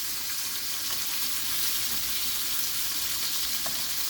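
Thick pieces of tocino, Filipino sweet cured pork bacon, fry in a pan with a loud, continuous close sizzle, steady throughout with faint spatter and crackle.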